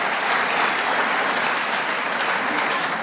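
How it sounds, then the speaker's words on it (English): Steady applause from a seminar audience at a lecture on inequality and the American Dream, a dense even wash of many hands clapping throughout with no voices over it. "You deserve a round of applause"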